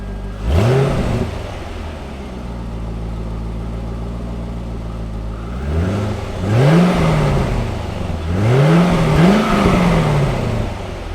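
A Chevrolet C5 Corvette engine runs to warm up: a sharp rev, a long steady idle, then several more rising and falling revs, loud and close, with no talk.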